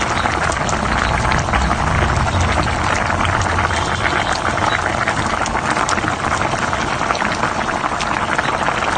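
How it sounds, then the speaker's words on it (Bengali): Rohu fish pieces go into a simmering cauliflower curry, and a dense, continuous bubbling and gurgling carries on steadily and close by with no voices. "এবার মাছটা এখন দিয়ে দিব।"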